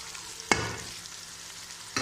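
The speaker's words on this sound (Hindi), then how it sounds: "इसको अच्छी तरह हम मिक्स करके फ्राई करेंगे।" Aloo baingan with kadhai masala, turmeric and salt fries in a kadai, a soft continuous sizzle broken by two sharp spoon scrapes as it is stirred.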